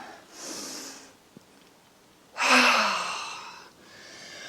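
Breathing during a yoga flow: a soft inhale, then a long, loud open-mouthed exhale with a breathy rush, followed by a quieter trailing breath.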